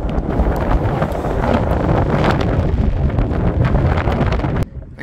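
Strong wind buffets the microphone at an old mountain mine site near a head frame, a loud, continuous gusting roar that drops off sharply near the end.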